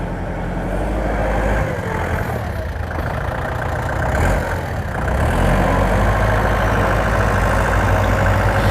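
A Kubota L4708 DT tractor's diesel engine idles steadily with a low, continuous rumble throughout, slightly louder toward the end, with no talking.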